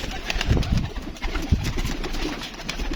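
Pigeons coo in a loft, soft repeated low coos with a few wing-flutter thumps over a steady noisy background, and a faint engine hum far off.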